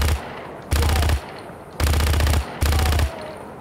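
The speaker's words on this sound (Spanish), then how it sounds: "Están disparando desde la guavira" Gunfire in the video game Just Cause 3: three loud, close bursts of rapid automatic fire with short quiet gaps between them.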